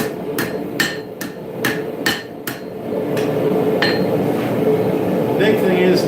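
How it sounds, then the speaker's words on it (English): Sharp metallic hammer strikes ring out as a hammer heel knocks the plunge cuts of a forged dagger against the anvil edge, a quick series of clinks that thins out into a steady workshop hum. "You can use the heel of your hammer. You just want to knock it one way or the other."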